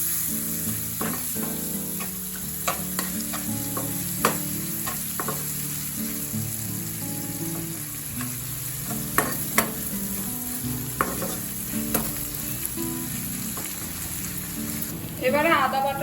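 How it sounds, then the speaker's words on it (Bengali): Chopped tomatoes fry with onions in a pan, a strong steady sizzle with stirring clatters over background music, louder near the end. "টমেটো কুচনোটা দিয়ে দিলাম।"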